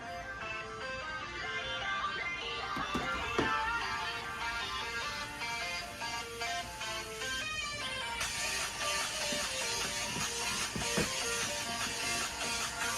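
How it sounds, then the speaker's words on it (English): A song plays at full volume through a phone's speaker set on the ground, dense and steady with a busy beat and melody filling the whole clip, slightly boxy and unbroken. "I'm gonna go ahead and play this song here, and at full volume on my phone."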